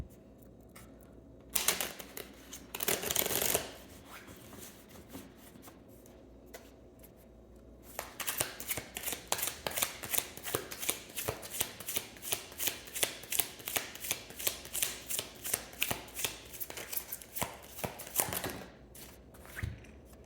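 Tarot cards shuffled in rapid riffling bursts, a short flurry early on followed by a long steady run of crisp card flicks, close and fairly quiet with no talking.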